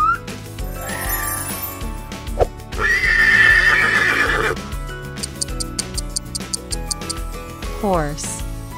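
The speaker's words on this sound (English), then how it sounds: "Horse." A horse neighs in a loud, rising-and-falling whinny, mixed into playful children's background music with clip-clop and tinkling percussion; a voice speaks briefly nearby.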